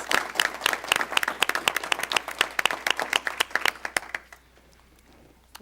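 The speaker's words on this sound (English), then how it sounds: "Please join me in another round of applause for these amazing athletes and students." Audience applause for athletes and students at a school board meeting, a dense burst of many hands clapping close by that holds steady for about four seconds, then fades out quickly to a quiet room.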